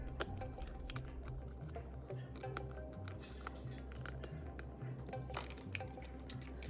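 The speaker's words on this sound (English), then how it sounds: "Keyboard and numpad pop into place." The keyboard and numpad modules of a prototype Framework laptop snap into place during a quick GPU upgrade, heard as a dense run of small sharp plastic clicks and taps close up.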